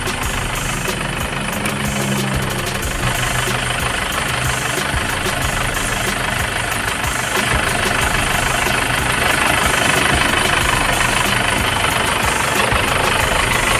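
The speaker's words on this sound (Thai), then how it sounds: "เร่งเร่งไหนเร่งกัน" An Isuzu 2.5 Turbo pickup engine runs loud and close, a steady dense diesel roar with knocking texture that holds and swells slightly as it revs.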